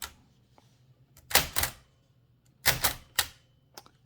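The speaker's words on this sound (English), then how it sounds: "I prefer the feel of typing on this machine" Typing on a 1920-1922 Helios-Klimax typewriter, heard as close, crisp mechanical clacks in two quick pairs with a few lighter taps between them, no voices.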